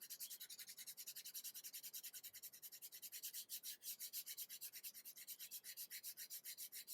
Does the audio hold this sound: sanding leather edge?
yes